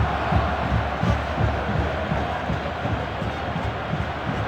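Football stadium crowd during a match, a dense, loud roar of clapping and cheering spread evenly across the stands with no voice standing out.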